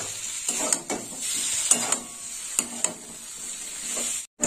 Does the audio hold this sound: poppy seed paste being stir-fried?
yes